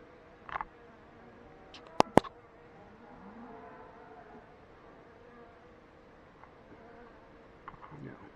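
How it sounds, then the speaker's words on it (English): Bees investigating a banana buzz faintly in short, scattered bursts against a quiet outdoor background, along with a few sharp clicks. "There's a bee"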